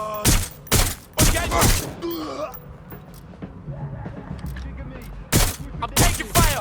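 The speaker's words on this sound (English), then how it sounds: "I'm being shot at!" Gunfire in the video game Watch Dogs: Legion comes as several loud, sharp bursts of shots spaced across the moment, with voices shouting and groaning in between amid combat noise.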